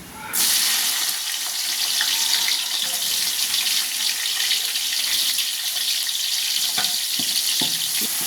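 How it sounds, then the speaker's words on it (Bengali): Chopped onions fry in hot oil with cinnamon, cardamom, cloves and bay leaves for plain pulao, making a loud, even, close-up sizzle that holds steady throughout. "পেঁয়াজগুলো হালকা একটু ভেজে নিব।"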